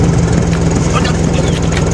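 Tractor engine running with a steady low idling throb, loud and close, continuous throughout.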